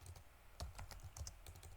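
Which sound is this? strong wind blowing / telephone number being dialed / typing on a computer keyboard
typing on a computer keyboard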